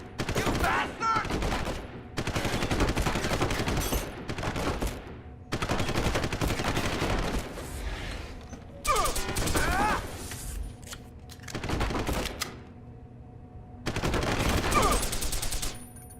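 Machine pistol gunfire in the video game Deus Ex: Human Revolution: repeated loud bursts of rapid automatic fire in several separate volleys with short pauses between, against a steady background of game ambience.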